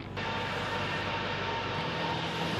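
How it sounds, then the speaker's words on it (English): An Airbus A380 with four Rolls-Royce Trent 900 engines flies past at an airshow, a loud, steady, broadband jet roar that fills the whole clip with no talk over it. "Next up in the order of flight is, of course, the Airbus A380, the world's largest and most efficient passenger aircraft."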